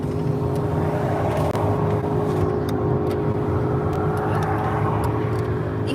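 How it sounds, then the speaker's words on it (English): A truck rolls past on a highway while the listener's vehicle cruises slowly at about 30 miles an hour, under a steady engine and road drone with a low hum that holds throughout. No voices are heard. "Hear that truck?"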